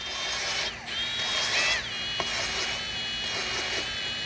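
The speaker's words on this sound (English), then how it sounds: "I'm going to start at the bottom, work my way up, lapping them with the drill." A drill spins engine valves against their seats with lapping compound and oil on a Farmall M tractor engine, a steady whirring grind with brief changes in pitch and a couple of sharp ticks.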